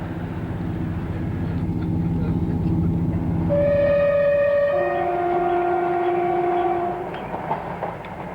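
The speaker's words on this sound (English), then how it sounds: "an increasingly crowded train moves off." A passenger train in Wales rumbles and rolls along as it moves off, with sustained horn-like tones rising over the steady mechanical noise; a voice is faintly present.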